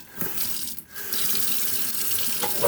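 Water rushing from a newly installed kitchen sink faucet, a loud steady hiss of tap flow close by, briefly interrupted near the start, then running continuously.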